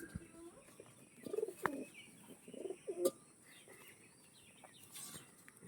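Soft pigeon coos in a few short bursts, faint against a quiet background hiss, with a couple of sharp clicks.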